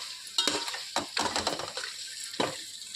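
Tomatoes go into mutton frying in a pan for dum biryani, giving a steady sizzle broken by several sharp spoon-scraping stirs against the metal, close and moderately loud with no talking.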